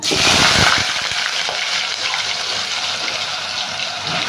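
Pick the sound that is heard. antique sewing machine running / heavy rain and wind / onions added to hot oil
onions added to hot oil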